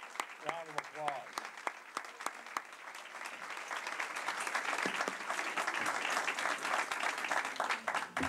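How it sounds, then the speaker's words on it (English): A community gathering breaks into a round of applause from a standing audience, starting faintly after a few words of speech and swelling into sustained, full clapping from many people. "Just stand up and raise your hands and give them a round of applause."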